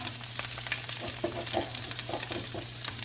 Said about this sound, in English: I'm going to add my onions and my salt and pepper and the last teaspoon of fajita meat that I'm going to need